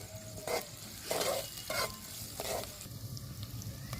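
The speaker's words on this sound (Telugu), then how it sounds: "ఒకసారి మొత్తం కలుపుకుందామండి." Broad bean curry stirred and frying in a pan: a steady sizzle runs throughout, with several scraping strokes of the spoon at irregular intervals, close and fairly quiet, no talking.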